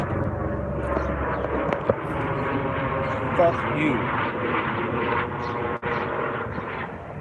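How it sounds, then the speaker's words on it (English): A helicopter passes directly over a house, its low engine and rotor rumble holding steady throughout, while someone speaks briefly nearby. "the helicopter flying over my house right when I'm doing this"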